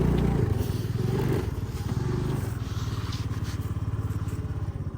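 A scooter engine hums nearby and pulses steadily as it drives along and turns, with some rattling and road noise mixed in.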